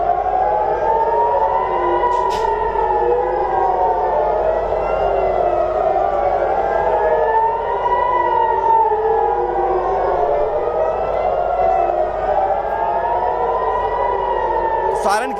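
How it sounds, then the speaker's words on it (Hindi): Missile warning sirens wail across Israeli cities in Galilee, Wadi Ara and Haifa, several civil defense sirens rising and falling out of phase in long overlapping sweeps, loud and continuous throughout. "इजराइल में फिर से मिसाइल सायरन बजे हैं"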